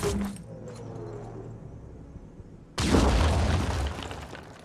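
A grenade explodes in the video game Phoenix Point with a sudden loud boom partway through, then a rumbling decay, after quieter game ambience.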